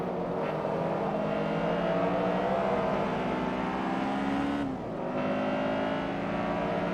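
Front-wheel-drive race cars in Forza Motorsport 3 droning loudly at high revs, a continuous layered engine whine with a short dip around a gear change, no talk over it.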